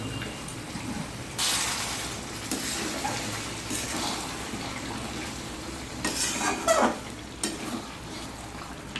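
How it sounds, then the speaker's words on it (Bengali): Chicken curry is stirred and fried in a pan for a Bengali chicken kosha, a steady close sizzle under repeated scraping stirs and occasional utensil clinks against the pan. "ভালো করে কষিয়ে কষিয়ে রান্না করবো। মাংস যত কষাবো তত ভালো হবে।"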